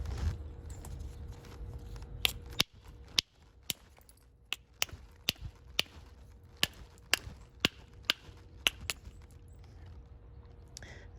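Sharp sandstone hammerstone strikes knapping stone and trimming flakes off, a dozen or so crisp, irregularly spaced clicks standing alone over quiet room tone.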